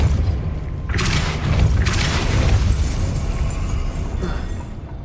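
A Depulso spell blasts in Hogwarts Legacy, a deep, loud rumbling boom that swells and then slowly fades over several seconds, with no speech.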